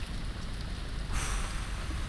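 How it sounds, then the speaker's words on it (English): Rain falls in a video game as a steady, soft patter that swells louder about halfway through, with no voices heard. "No, it's raining."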